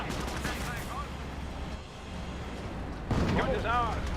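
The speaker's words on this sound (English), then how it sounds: "A bit of artillery raining on in." Artillery fire in the WWII strategy game Company of Heroes, a steady rumbling barrage of booms and blasts with a swell of heavier impacts near the end, under a voice talking.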